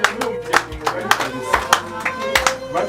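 An audience applauds to welcome a guest at a gathering, a steady rhythm of clapping bursts repeating about every half second, fairly close and loud, with a faint voice underneath.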